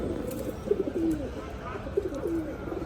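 Pigeons kept at a home loft coo in low, rolling calls, two distinct coos a second or so apart over quiet room background, close and moderately loud.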